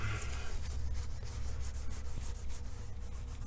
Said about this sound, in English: Fold this over, put a little more soap on it, and rub it again.